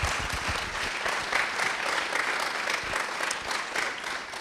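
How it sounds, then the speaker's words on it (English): Applause from a live show audience after a song performance, a fairly faint, continuous patter of many hands with a few louder low thumps near the start. "So a round of applause to Lila"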